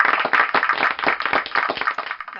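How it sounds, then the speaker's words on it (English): Close clapping in a classroom applauds a teacher's writing, a quick run of sharp, slightly uneven handclaps that keeps going for a couple of seconds. "That's an applaud for my writing."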